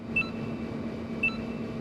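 Two short electronic keypad beeps from Resident Evil 3 on the PS1, spaced about a second apart, each a brief bright tone over a steady low background hum.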